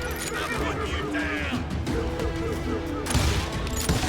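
Gunshots in Call of Juarez: Gunslinger ring out in rapid bursts amid crashes and a horse's whinny, loud and busy in the game's mix, with a voice talking over the action.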